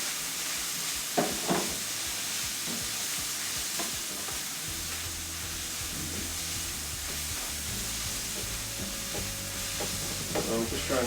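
Thin-sliced meat for cheesesteaks sizzles steadily in a hot pan, a continuous bright frying hiss broken by occasional scrapes and stirring knocks, close and fairly loud, with no talking.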